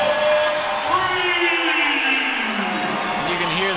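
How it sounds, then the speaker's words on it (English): Arena crowd at a men's college basketball game, Utah Valley against New Mexico State, a steady broad roar of cheering and whoops that fills the whole clip, with a voice rising over it. "You can hear the crowd now really getting behind him"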